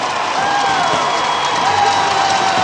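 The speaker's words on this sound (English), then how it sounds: "this Arizona crowd, with a big round of applause for Rochester" An Arizona arena crowd gives a steady, loud round of applause and cheering for Rochester after a National Lacrosse League Champions Cup final, with a dense wash of clapping throughout.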